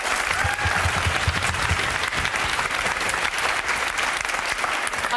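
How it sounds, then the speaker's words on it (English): A political debate audience applauds, a dense, steady wash of clapping from many hands that stays loud and even throughout, with no talk over it. "let everybody finish clapping"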